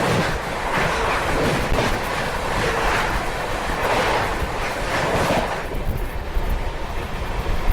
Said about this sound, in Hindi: चलिए भाई सामने से आ रही है नीलांचल एक्सप्रेस।